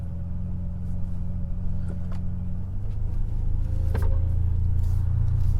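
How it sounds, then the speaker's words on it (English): A Ferrari 612 V12 2+2 coupe pulls away in first gear, its deep steady engine drone rising gradually in pitch and loudness over several seconds, heard from inside the car with no talking. "let's put her in first and see how she drives"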